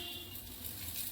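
Tender leafy greens fry in a home kitchen pan, giving a faint, steady sizzle that holds evenly through the short moment with no voices.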